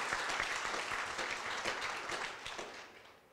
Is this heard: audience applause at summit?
yes